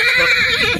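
A four-year-old black Marwari stallion at the Nagaur livestock fair lets out a loud, close, sustained whinny, a bright wavering neigh lasting under a second.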